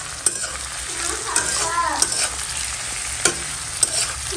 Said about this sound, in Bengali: মুগের ডালটা আমি ফার্স্টে ভেজে নিচ্ছি হালকা